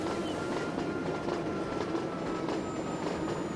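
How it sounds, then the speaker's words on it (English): Transport Fever train rushing along at about 300 kph, a constant heavy rail roar with faint clatter and a thin high wheel whine, close and unbroken, no speech. "Train is running at speed."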